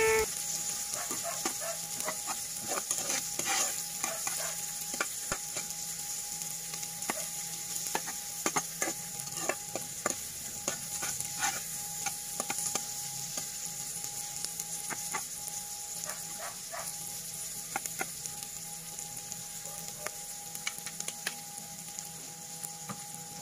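Onions being sautéed and stirred in a pan for misua and sardine soup, a low steady sizzle with frequent sharp clicks and scrapes of the utensil against the pan, and a chicken clucking faintly in the background.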